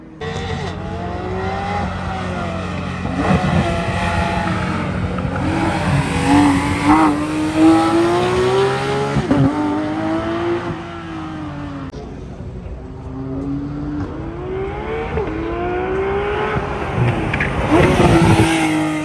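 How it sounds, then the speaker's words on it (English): Race cars at a time attack event on a motorsports track, loud and close as engines rev hard and climb through gears repeatedly, with shifts between each rising pitch and faint tire squeal. "The cars sound fucking great."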